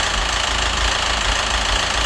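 A Citroen DS3 1.6 engine that ran without oil knocks as it idles, a loud, steady mechanical clatter with a rapid repeating pulse close to the microphone and no voices.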